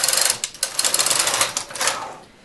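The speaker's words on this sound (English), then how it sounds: "After doing 10 rows of ribbing, I make the carriages much, much looser and do a single row." A knitting machine carriage sweeps across a single loose row after ribbing, a loud, close, rapid mechanical clatter with stuttering pulses that fades toward the end of the pass.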